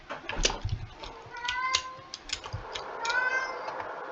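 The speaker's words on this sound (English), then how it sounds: "meowing outside is absolutely adorable and desperate" A cat meows repeatedly outside, plaintive and somewhat distant, with a few drawn-out cries over faint background noise.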